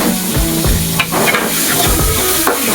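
Spices tempering in hot oil crackle and sizzle loudly and steadily, with stirring clatter and brief pops throughout.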